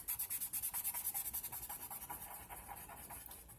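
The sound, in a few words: rubbing and blending colour on a glass window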